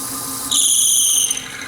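A drill bores through a Christmas ornament, a brief high whine that starts abruptly partway through and runs steadily for under a second before easing off, close and fairly loud.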